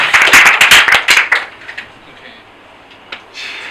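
A small group of people claps briefly after a technical presentation. The bursts are loud and close at first, then thin out into a few scattered claps before quieting, with a faint voice near the end.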